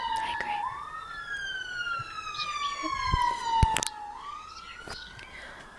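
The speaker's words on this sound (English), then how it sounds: "there's a hell of a lot of sirens tonight" Wailing police sirens rise and fall outside at night, steady and somewhat distant, with faint clicks and rustles close by.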